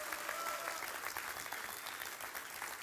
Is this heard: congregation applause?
yes